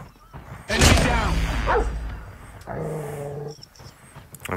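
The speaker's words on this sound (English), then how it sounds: "I will send out the dog." An attack dog in the Call of Duty Mobile video game lets out loud, close snarling barks and growls amid gunfire and game noise, with a player talking over it.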